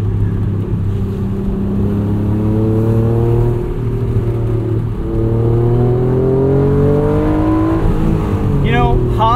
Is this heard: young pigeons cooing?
no